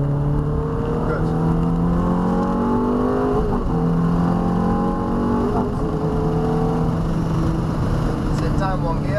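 A Ferrari F430 engine droning steadily on a test track, with its pitch rising and shifting under throttle, heard from inside the car while an instructor talks over it.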